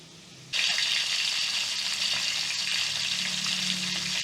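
Dalagang bukid fish fries in a pan, a steady loud sizzle that starts abruptly and holds without pause, no voices over it.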